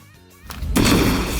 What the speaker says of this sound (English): You spawn in red from the tip of your fingers and it explodes